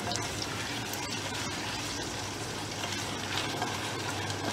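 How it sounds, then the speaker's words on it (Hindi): Water pours steadily into a cooking pan of potatoes frying in oil with tomatoes, making a continuous, fairly quiet rushing and hissing wash that lasts the whole time. "थोड़ा सा पानी ऐड करना है ताकि आलू जो है हमारे गल जाएं।"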